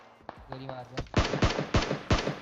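Gunfire rings out in the PUBG Mobile video game: a few scattered shots, then a run of loud, rapid, evenly spaced bursts, close and punchy, with a voice briefly heard beneath.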